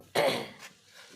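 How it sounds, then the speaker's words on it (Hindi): A child gives one short, sharp cough close by, followed by a fainter second huff, in an otherwise quiet room. "इसे भी बहुत खांसी आ रही है और छोटे को भी बहुत खांसी आ रही है।"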